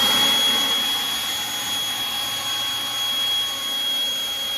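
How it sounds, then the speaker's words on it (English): A Milwaukee M18 battery leaf blower, an 11-pound unit, runs steadily at a loud, close, even roar with a high, thin whine throughout and no change in speed. "This blower is the heaviest blower in the field at 11 pounds."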